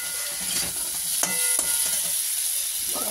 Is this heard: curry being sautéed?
yes